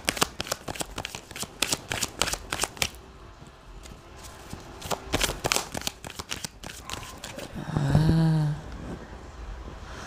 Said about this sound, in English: Let me pull a card.